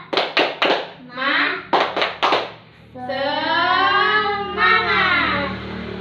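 A primary school class does a rhythmic 'tepuk semangat' chant, sharp groups of quick claps alternating with children's shouted chanting voices, the claps tight and close in bursts before a longer sung call.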